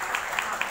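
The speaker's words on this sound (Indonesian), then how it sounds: "Tepuk tangan ya." An audience at a badminton-related press gathering claps, a faint, thin patter of a few hands with a handful of distinct claps over a short moment.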